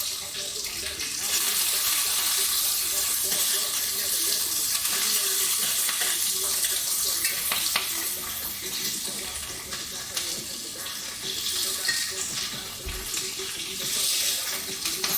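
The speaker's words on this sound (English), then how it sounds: "got a little deglaze situation over here" Pan deglazing while spatchcock chicken cooks, a steady broad hiss and watery sizzle running throughout with faint clinks, close and fairly loud, no talk.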